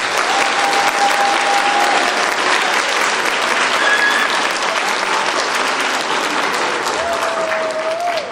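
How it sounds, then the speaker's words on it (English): Sustained audience applause at a Lakeside Bands spring pops concert, dense and steady clapping throughout with a few brief whistled tones over it. "And lots of clapping going on."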